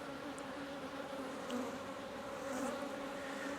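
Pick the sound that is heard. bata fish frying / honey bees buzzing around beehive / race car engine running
honey bees buzzing around beehive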